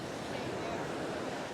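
Ocean waves washing onto the beach at Sunny Isles, a steady broadband wash of surf with wind noise across the microphone, constant and fairly loud throughout.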